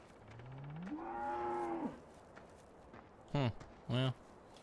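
Cattle low in the farming video game Farming Simulator 17, one long rising moo followed by two shorter calls, fairly quiet against a soft background.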